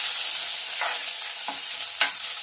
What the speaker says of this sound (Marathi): तेल आहे ना खूप कडकडीत गरम झालंय, तर आपण आता इथे आलं लसूण कुटलेलं आहे ना ते घेते मी